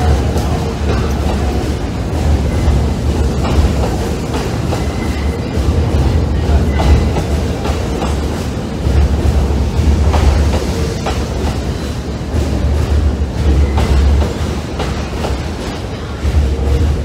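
A subway train rumbles along the tracks with steady low roar and clickety-clack rhythm, close and continuous, with faint wheel squeals now and then.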